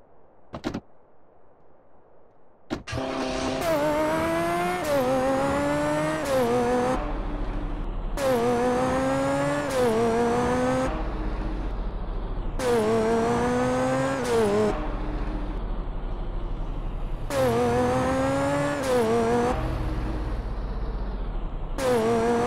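A car being driven in GTA San Andreas: a door thunk, then a loud close engine that revs up and drops back again and again through repeated gear changes, with no talk.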